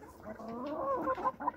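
Faverolles and mixed-breed hens clucking close by in a steady run of overlapping calls, fairly faint with no talk over them.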